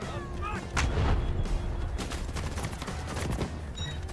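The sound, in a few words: artillery fire in video game Delta Force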